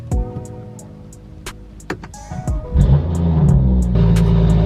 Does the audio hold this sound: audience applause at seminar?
no